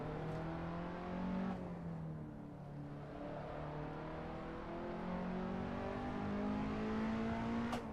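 A Peugeot 206 front-wheel-drive hatchback in Assetto Corsa at a track day, its engine droning steadily and then climbing in pitch as it revs toward the limiter, heard from close by with no talking.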